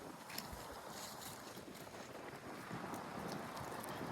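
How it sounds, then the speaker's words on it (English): Strong windstorm gusts in Fort Worth, Texas roar as a steady, broadband rush against the microphone, with constant buffeting and no voices. "It's like a windstorm here right now."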